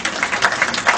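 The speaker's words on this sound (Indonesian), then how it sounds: "Tepuk tangan, tepuk tangan." A church congregation at a pastor's sermon gives a quick burst of clapping, a brief, uneven patter of several hands lasting about a second.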